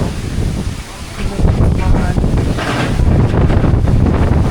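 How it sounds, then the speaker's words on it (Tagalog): Strong wind buffets the microphone in loud, rough gusts, with a broad roaring rush throughout and a brief lull near the start. "Ay, lakas ng hangin dito sa amin."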